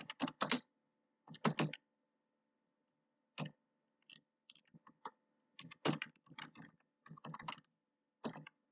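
Keys clack on a computer keyboard in short irregular bursts with pauses between them, close and fairly quiet, during a Java programming lesson, with no talking.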